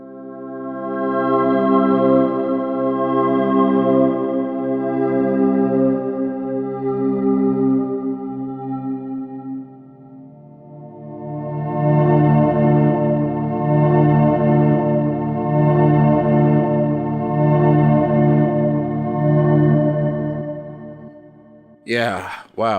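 A sustained synth pad chord in Logic Pro X holds steady, then swells brighter and fuller as its filter cutoff opens, ending with a brief noisy burst.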